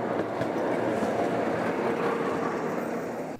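An aging tram about 35 years old rolls steadily along its rails, a continuous rumble with rhythmic clickety-clack from the wheels, moderately loud and without voices.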